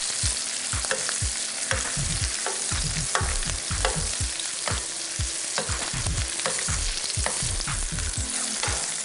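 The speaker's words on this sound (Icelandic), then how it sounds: "Jæja, þá kraumar lambakjötið fallega." Lamb shanks frying in butter fill the clip with a loud, steady sizzle, broken by frequent scraping and stirring knocks from the pan, close up and with no one talking.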